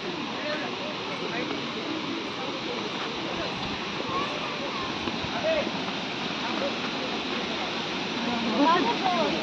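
Furli Jharan waterfall in Kalahandi pours with a constant, even rushing hiss of falling water, while someone talks over it and the roar swells slightly near the end.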